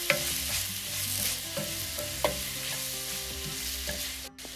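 Slit green chillies and curry leaves sautéed in a pan for a Kerala-style chicken curry with potatoes, a close continuous sizzle with repeated spatula stirs and scrapes in a loose rhythm, no voices.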